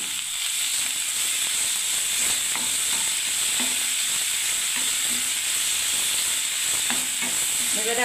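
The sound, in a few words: stirring chhana into gravy in a frying pan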